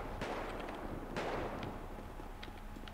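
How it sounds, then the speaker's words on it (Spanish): Quiet, distant bursts of gunfire in a zombie video game crackle twice in quick succession, then a few faint pops follow over a steady background hum. "Se están liando a tiros aquí."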